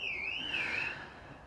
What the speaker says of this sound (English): somebody's flipping alarm's gone off